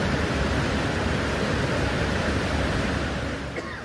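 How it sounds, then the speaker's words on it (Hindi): The Tawi river in Jammu, swollen in flood, roars as a raging torrent, a loud, dense, continuous rush of water with no pause throughout. "प्रचंड वेग से बहती ये नदी मानो सब कुछ बहा ले जाने को आमादा है।"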